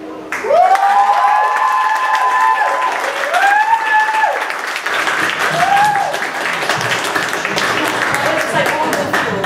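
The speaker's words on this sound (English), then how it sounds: "Let's have another round of applause for Anina" Audience applause and cheering for Anina, a performer in a school talent show called Impress the President, with dense clapping and whoops filling the room and rising voices and shouts riding over the crowd throughout.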